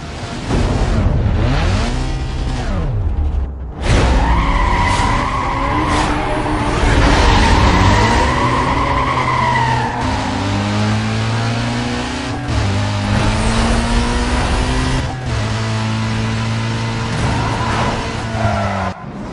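Street race cars in the Need for Speed Most Wanted video game roar loudly with rising and falling engine pitch through gear changes, tires squealing at moments, continuous and close.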